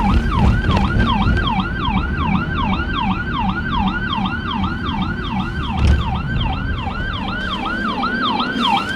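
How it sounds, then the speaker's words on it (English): A loud, close ambulance siren wails continuously in a rapid rising-and-falling yelp, with road rumble underneath and no talking. "oh, there's an ambulance behind me"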